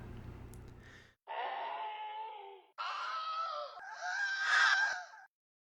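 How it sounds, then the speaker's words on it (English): A voice performs screaming sounds in an audiobook: three separate drawn-out anguished screams after a short lower moan, each cut off cleanly, the last one loudest and shrillest. "The screams began almost instantly."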